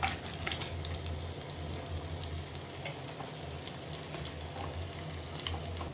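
Garlic sizzles and fries steadily in hot oil in a home kitchen pan while momo chutney is being made, a dense continuous crackle with no talk.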